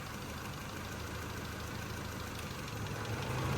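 A Honda CRX engine idling after an idle-surge fix: a faint, steady low hum with an even mechanical rumble throughout.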